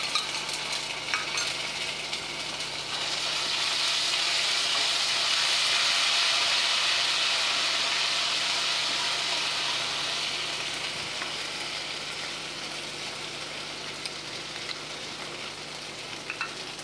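Ginger paste and whole spices fry in a hot pan for Bengali aam shol, a steady close sizzle that swells and then slowly eases over the length of the clip.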